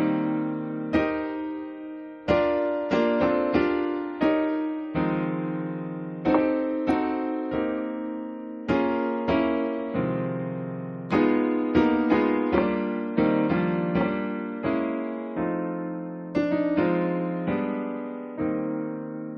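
Jazz block chords play a melody line, likely on piano, as a series of struck full chords with sustained decays, in a steady rubato pattern over about twenty seconds with no talking.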